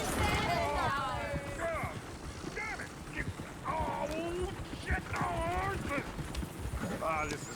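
Horse hooves clip-clop at a walk amid a bustling town scene in Red Dead Redemption 2, with several characters talking over the rhythmic clopping throughout.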